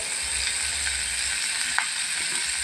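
Bitter gourd fries in mustard oil in a pan, an even, close, continuous sizzle with a faint click or scrape partway through.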